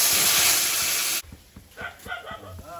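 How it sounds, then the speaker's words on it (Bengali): A loud, steady sizzle of spices frying in hot oil for about a second, then an abrupt drop into quieter bubbling and scattered clinks as water goes into the pan for a fish curry. "মশলাটা তেল ছেড়েছে, এবার জল দিয়ে দেবো"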